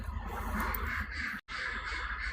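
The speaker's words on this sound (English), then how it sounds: "Fucking hell, pigeons." Birds heard among old church grounds at Pawlett Baptist Church, with harsh caw-like calls over a steady outdoor hum, fairly faint and cut by a brief gap of silence partway through.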